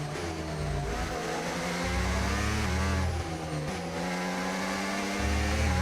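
Formula 1 car in a racing video game at Imola, its high-pitched engine note rising and falling through gear changes, steady and moderately quiet.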